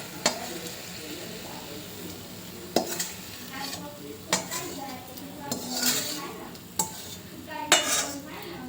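A spoon stirs and scrapes rotlo (millet flatbread) inside a metal kadai, with sharp clinks every second or so over a low sizzle, close up.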